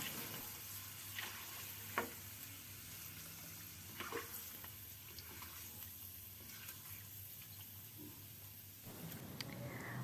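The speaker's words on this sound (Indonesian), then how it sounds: "Saya goreng sampai agak sedikit kecoklatan kayak gini." Jengkol pieces frying in oil until lightly browned and crisp outside, a steady close sizzle with occasional stirring clinks and a brief splash near the end, no talking.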